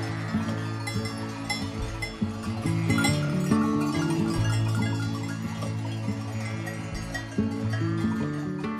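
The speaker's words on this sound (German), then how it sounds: "Und jetzt laufe ich mal mit dem Arno noch ein bisschen durch die Herde laufen, dass die Schafe auch spüren" A flock of sheep on an alpine pasture bleats repeatedly, with many overlapping calls near and far and a faint bell clanking among them. No one speaks.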